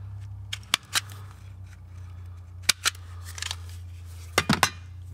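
Wire ends on a 2004 BMW 325i fuel gauge circuit are trimmed and stripped, giving a few sharp, close snips and clicks spaced apart over a low steady hum, with a quick cluster of cuts near the end.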